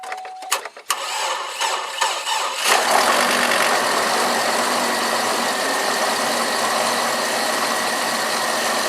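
A car engine with a completely dead battery, jump-started with a Topdon T01 jump starter at -10°F, cranks with a few uneven, stuttering turns, then catches and settles into a loud, steady idle that continues to the end.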